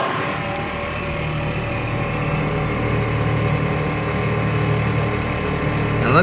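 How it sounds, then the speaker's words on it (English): HornBlasters train horn kit air compressors running steadily, a loud continuous mechanical drone and whine close by, with no talking. "Compressors are running."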